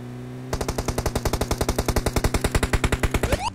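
Sustained rapid automatic gunfire in the mobile battle-royale game PUBG Mobile, a fast even train of loud, close shots running for several seconds without a break.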